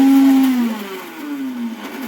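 A mixer grinder motor whirs steadily as it grinds cooked bottle gourd pieces, a loud close hum with its pitch sliding slightly as the load shifts.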